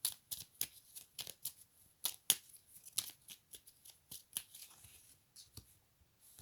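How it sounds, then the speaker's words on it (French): Tarot cards shuffled and drawn by hand, a quiet close flutter of riffles and soft slaps in irregular quick bursts, with no talking. "Je demande une carte, s'il vous plaît, pour le masculin sacré."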